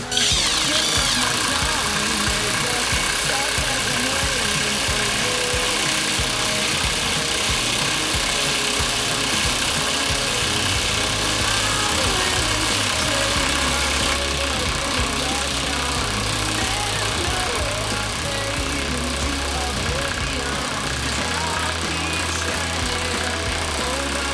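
A Stromo cordless impact wrench drives a 12x150 screw, with a continuous, loud buzzing motor and rapid hammering rattle sustained throughout at close range.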